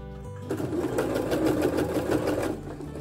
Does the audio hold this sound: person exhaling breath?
no